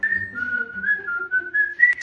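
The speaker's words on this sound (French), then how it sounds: "tu siffles en bloc de travail sur ton chantier, mais pas dans mon oreille à 7h du matin" A person whistles a steady, wavering melody close up, loud and alone, early in the morning at home, ending with a brief rustle.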